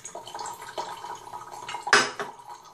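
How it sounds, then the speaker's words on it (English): Water poured out of a kettle while brewing coffee with an Aeropress, a close splashing trickle with light clinks of kitchenware and a sharper clatter near the end. "Then the next step is I pour out my water."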